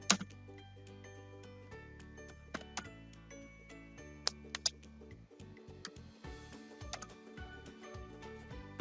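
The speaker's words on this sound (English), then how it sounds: "start typing your text" Soft, sparse clicks of typing on a computer keyboard, faint and irregular keystrokes under a quiet background hum.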